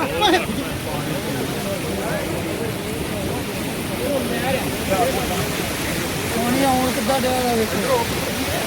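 Water of the Ravi river pouring through a breached embankment near Kalanaur, a broad steady rushing wash that runs throughout, with a person talking over it.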